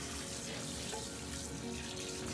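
Water runs steadily at a salon shampoo sink while hair is rinsed, a continuous loud rushing spray with no pauses and no voices.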